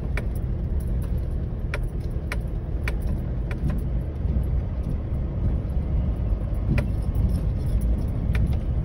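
A Mitsubishi Triton pickup driving on a rough, bumpy mine road, a steady engine drone under constant road rumble with repeated rattles and clanks from the jolting cab, no talk.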